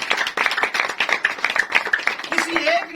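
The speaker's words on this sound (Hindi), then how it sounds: "जोरदार तालियां बजा दे जी आज।" A church congregation claps loudly in a quick, uneven burst of hand claps, with voices talking and calling out over the clapping.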